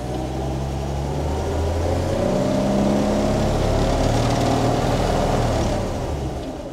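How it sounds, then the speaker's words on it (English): Engine note of a Vauxhall Velox rising and falling steadily as the accelerator is pressed to drive its vacuum-powered variable speed windscreen wipers, a continuous close rumble with no distinct wiper strokes standing out. "See? Variable speed wipers."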